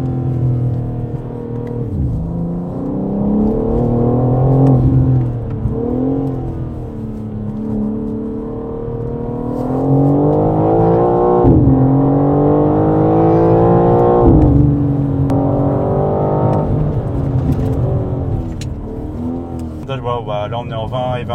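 A BMW M4 G82 Competition with 510 horsepower, rear-wheel drive and in Sport Plus mode accelerates hard along a country road, its engine note rising and falling through gear changes, loud and close inside the cabin.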